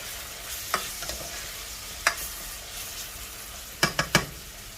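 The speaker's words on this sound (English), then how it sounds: "So that's my garlic in there too. Give that a stir." Garlic and onions sizzle softly in a pan while being stirred, with a low steady frying hiss broken by several sharp scraping strokes of a utensil, near and alone.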